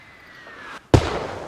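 A mortar illumination round in Arma Reforger detonates with a single sharp, loud bang after a faint descending whistle and a brief moment of silence, leaving a rumbling tail.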